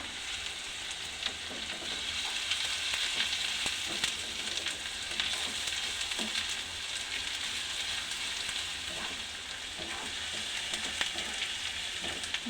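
Chopped onion with ginger-garlic paste frying in oil for mini mughlai, a steady, even, rain-like sizzle with faint stirring clicks, continuous and close.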